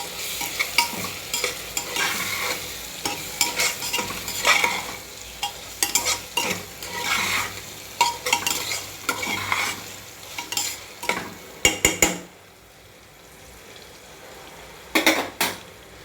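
Soybeans for pulao are stirred and sautéed in a pan, with steady oil sizzle and frequent metallic scrapes and clinks of a spoon against the pan, then a brief pause before a few more stirs.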